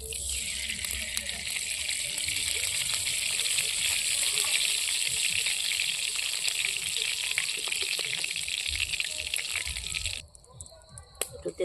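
Hot oil sizzling loudly and continuously in a pan while rui fish curry with cauliflower and potato cooks, a steady bright hiss that cuts off abruptly near the end.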